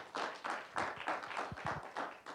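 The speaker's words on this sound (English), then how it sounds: "So let's give a special round of applause for Justin." Audience applause at a 2012 community college idea pitch competition: a fairly quiet, steady patter of clapping from a modest crowd, with a few louder individual claps standing out near the end.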